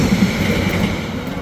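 A Narsingdi commuter train arrives at a station, rumbling steadily with a continuous low roar and a faint metallic hum, sounding close and unbroken throughout.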